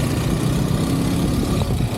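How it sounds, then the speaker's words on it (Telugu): A KTM RC 390 motorcycle runs while being ridden, a steady, loud engine drone with wind rumble underneath, continuous and close, with no talking. "బైక్ సౌండ్ వస్తుంది కదా."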